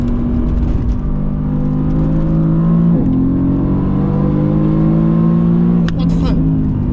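A Mercedes-AMG GT R sports car engine revs and climbs in pitch, dropping briefly at gear shifts before rising again, loud and close, with a voice talking over it.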